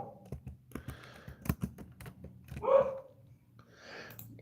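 A pet dog barks a couple of muffled times indoors, mixed with clicking keyboard typing and low background hum, fairly quiet and close.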